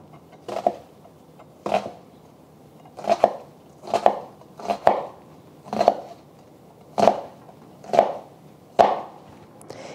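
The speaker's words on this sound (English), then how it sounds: "So I have 1 onion. I'm going to chop this up." A knife chops through an onion on a cutting board in about ten distinct, evenly spaced strikes, each a crisp thud close by with brief quiet between them and no talking.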